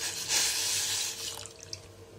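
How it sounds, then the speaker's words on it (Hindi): Milk pours into a pan of warm water on the stove in a loud, steady splashing stream that tapers off into a few drips. "हमने इसमें दूध डाल दिया है"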